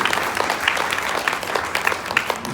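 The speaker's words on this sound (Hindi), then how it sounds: "इन भक्तों के लिए जोरदार तालियां बजती" Devotees at a Bhagwat Katha religious discourse clap together in a lively burst of applause, moderately loud and steady with uneven peaks across the short stretch.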